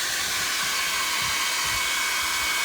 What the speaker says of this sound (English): we're going to blow that off with the airline, with the hair dryer